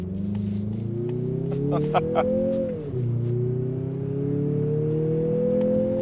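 A 2026 Mazda CX-50 with a 2.5-liter turbo engine in sport mode pulling hard at full throttle, a steady loud engine drone rising in pitch with a brief dip as it shifts, then climbing again, heard from inside.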